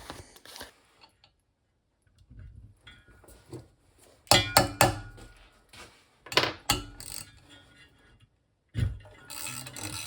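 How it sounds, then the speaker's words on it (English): Debris being scraped out of the housing of a Nederman fume extraction fan: a few short bursts of scraping and clinking separated by quiet gaps, close by and fairly loud. "We're gonna have to scrape all this garbage out."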